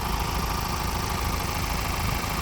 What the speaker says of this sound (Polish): Tutaj silniczek pracuje wzorowo, cicho, równo.